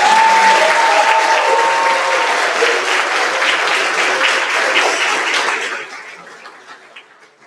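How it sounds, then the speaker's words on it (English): Loud, dense applause fills a hall at the Texas Ambassador Great Debate awards ceremony, holding steady before tapering off and fading away near the end. "One final round of applause."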